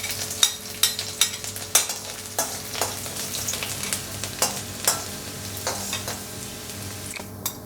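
Garlic frying in sesame oil with mustard and fenugreek seeds in a pan over low heat, a soft continuous sizzle broken by repeated sharp stirring taps and scrapes, no talking.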